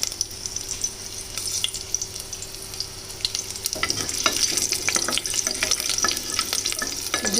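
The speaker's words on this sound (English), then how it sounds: "Just saute it for about 20 seconds" Peppercorns, cloves and split green chilies sauté in hot oil in a pan for chole. A soft, steady sizzle jumps louder midway, with crackles and stirring scrapes close by.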